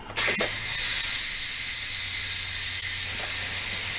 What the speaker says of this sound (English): All right, I'm going to let the pressure out.